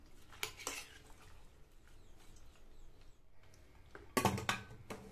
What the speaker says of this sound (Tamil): நல்லா ஒரு தடவை கலந்து விட்டுட்டு